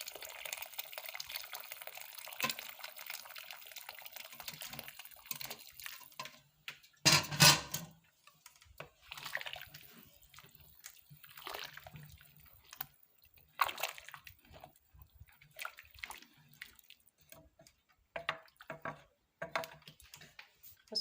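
Water poured over rice in a cooking pot set on a charcoal stove, heard as soft splashing and squishing, with one louder burst of pouring midway and quieter wet stirring sounds around it.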